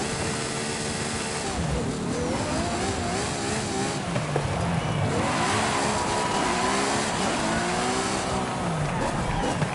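A car engine in the racing game Forza Horizon 5 revs and accelerates through repeated rising and falling sweeps with tire noise, loud and continuous, with someone talking briefly over it.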